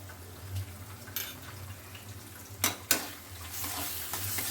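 Chicken is stirred with ground garam masala in a pan for a Konkan-coast village-style curry: a low, steady sizzle with a few sharp scraping strokes of the spoon near the end.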